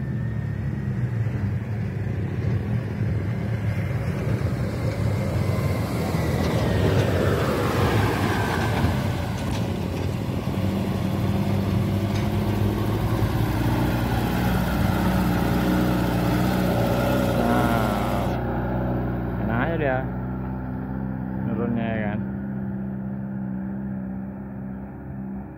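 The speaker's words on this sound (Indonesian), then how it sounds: "Ini ada truk di turunan." A heavy truck works its way along a hilly road, its diesel engine rumbling loud and close for most of the stretch, the drone shifting in pitch before easing off near the end.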